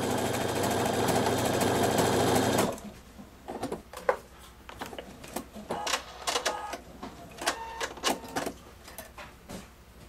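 Pfaff Performance 5.0 sewing machine stitching a taper stitch: a loud steady machine whir for the first few seconds, then stopping, followed by quieter scattered clicks and handling noises.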